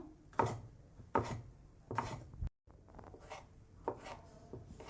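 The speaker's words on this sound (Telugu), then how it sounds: "టమోటాలు కూడా అట్లనే పొడవుగా కట్ చేసుకుందాము" A knife slices tomatoes lengthwise on a board while making a salted raw mango curry, giving distinct chopping strokes at a steady, unhurried pace, close and fairly loud, with a brief silent gap partway through.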